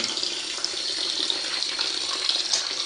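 Water streams steadily in a continuous broadband splash, close and moderately loud, as it is poured during a craft-making session, with no voices over it.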